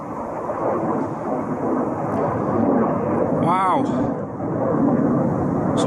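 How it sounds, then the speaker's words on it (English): A military jet passes overhead above a wild campsite, its loud, steady roar filling the whole stretch, with one short exclamation from a voice partway through. "Some kind of military jet just went over"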